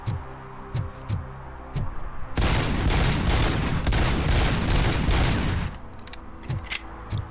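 Sustained rapid gunfire from the Robocop: Rogue City video game, a loud dense fusillade of shots lasting about three seconds, framed by sparse single thumps before and after.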